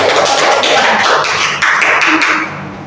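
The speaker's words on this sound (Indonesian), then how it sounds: "Kita kasih aplaus" Classroom applause after a microteaching lesson, a dense wash of many hands clapping together, loud and steady across the room before tapering off at the end.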